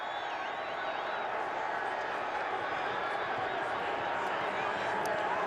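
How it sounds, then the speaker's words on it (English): A stadium crowd at a 2014 NFL night game between Cincinnati and Cleveland roars in a broad, sustained wash of cheering and chatter, steady and fairly distant, with a few whistles near the start. "You hear a lot of cheering."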